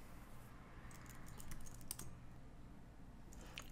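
Quick, light keystrokes tapped on a computer keyboard, a short burst of soft, close clicks in an otherwise quiet room.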